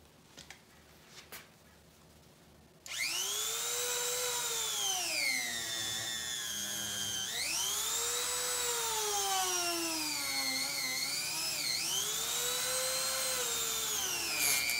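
A Dremel rotary tool cuts into ATV tire rubber near a stuck bead, starting abruptly after a quiet moment and holding a loud, close high-pitched whine whose pitch dips and rises repeatedly as the load changes.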